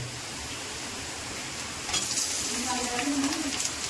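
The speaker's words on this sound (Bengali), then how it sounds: "এবার চিকেন দিয়ে দেবে, এবার চিকেন দিয়ে দাও।" Chicken added to a pan of browned onions starts to fry with a broad, steady sizzle that grows louder partway through, with light stirring scrapes and no talk.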